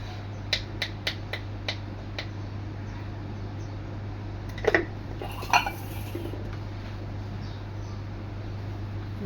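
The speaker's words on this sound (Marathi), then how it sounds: "सारण मिक्स करून घ्यायचं आहे" Salt is mixed into a boiled potato filling for fasting batata vada. A utensil gives a few sharp clicks against the bowl, then sparse clinks and soft scraping over a quiet, steady background hum.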